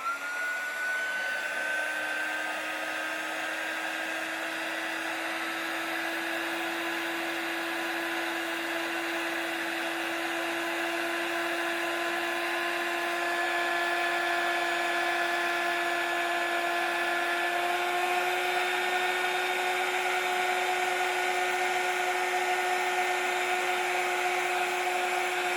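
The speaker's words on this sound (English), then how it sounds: "Let's just wind up my heat gun." A heat gun runs steadily for the whole stretch, a constant airy whine with a slowly rising tone, used on wooden flooring in a workshop.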